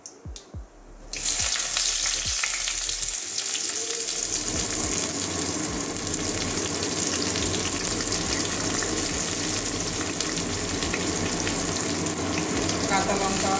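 Chopped onion frying in a pan for a Bengali katla fish head and papaya curry, a steady loud sizzle that kicks in after a second of quiet clatter and continues unbroken.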